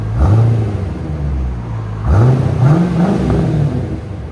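A C4 Chevy Corvette 5.7L V8 with Borla and Vibrant exhaust revs hard from idle, two rising blips climbing in pitch and dropping back, loud and close with a deep rumble underneath.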